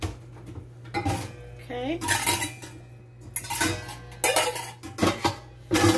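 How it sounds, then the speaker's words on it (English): Cut potato pieces for a Turkish potato salad being dropped into a mixing bowl, several close clattering knocks and clinks of dishware in irregular bursts, with a brief spoken word. "cut them one by one and put them in our mixing bowl"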